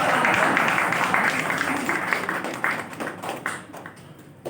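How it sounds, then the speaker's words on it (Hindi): An audience claps at a poetry recital (kavi sammelan), a steady wash of applause that gradually thins and fades toward the end. "आपकी तालियों से आती है हिम्मत, थोड़ा बजाएंगे तो अच्छा लगेगा।"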